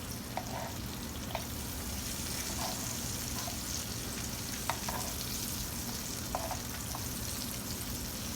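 Vegan mushroom chicken pieces fry in a pan of oil, a steady close sizzle with occasional soft clicks and pops throughout, no voices.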